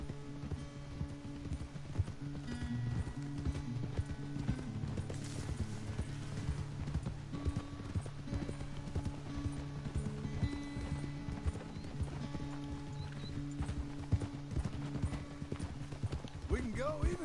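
Horse hooves clop rhythmically in a fast gallop in Red Dead Redemption 2, a continuous steady beat under game music and ambient sound, with a person talking over it.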